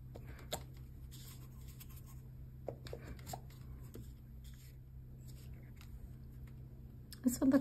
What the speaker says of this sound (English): maybe we could put some scribbly writing in there